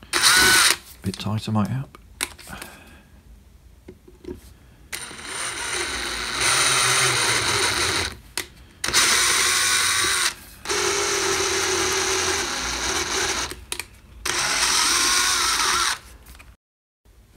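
A drill press motor runs loudly in repeated bursts while threaded holes are tapped in a metal part, stopping and starting several times, with a voice speaking briefly near the start.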